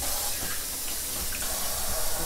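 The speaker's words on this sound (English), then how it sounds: "Now I'm going to wash my hands." Steady running tap water splashes into a sink while hands are washed in a home kitchen, a continuous hissing spray with no talking.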